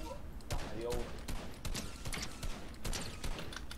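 Gunfire in a Fortnite match, a series of sharp shots scattered through the clip over game sounds while a player talks nearby.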